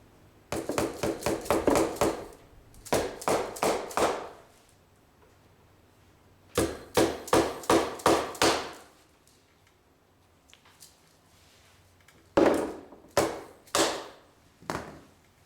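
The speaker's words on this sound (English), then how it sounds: "you can use your rubber mallet just to try to convince it, make it a little bit more less stubborn" Rubber mallet tapping a stubborn part on a 2008 Honda CBR 125 motorcycle during an oil and filter change, in quick bursts of four to six sharp knocks separated by short pauses, close and fairly loud with no talking.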